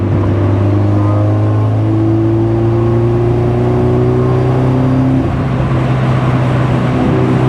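A 1995 Nissan 240SX with a turbocharged SR20 engine pulling in third gear, a loud, steady engine drone rising slowly in pitch with a faint whir of boost, heard from inside the car.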